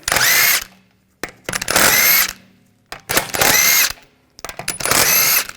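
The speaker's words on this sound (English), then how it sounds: "Use a 17mm socket. Take these lug bolts out." Power tool fitted with a 17mm socket spinning out lug bolts on a 2007-2013 BMW 328i's rear wheel: four loud, close whirring bursts separated by short silent pauses.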